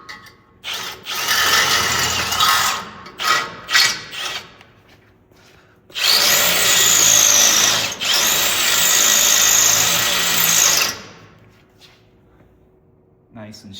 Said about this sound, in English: Then I'll go to the right size drill bit, and I'll do that again.